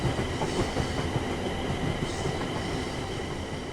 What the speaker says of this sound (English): This train is a Class 350/1 electric multiple unit, manufactured between 2004 and 2014, and is part of the Desiro family.